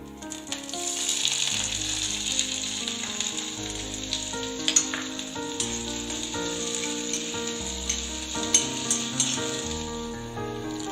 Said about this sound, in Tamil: அடுத்து நம்ம வெங்காயத்தை வதக்கிக்கலாம்